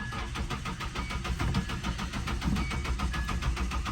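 A Nissan Hardbody pickup engine with 279,000 miles idles steadily at low volume, a rhythmic rumbling pulse with faint mechanical ticking and no voices.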